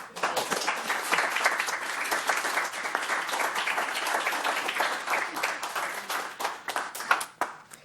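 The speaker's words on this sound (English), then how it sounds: "A well-deserved round of applause for Chief John Fitzgerald after he announced his retirement at the Keego Harbor City Council meeting" Applause from the audience at a Keego Harbor City Council meeting for retiring police chief John Fitzgerald: dense, steady clapping from many hands lasting throughout, with a slight swell near the end.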